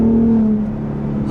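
A 2021 Ford F-150 Raptor with a 3.5-liter twin-turbo V6 engine revs and pulls hard, a steady loud drone that eases off partway through as the power comes down, with a faint hint of exhaust crackle.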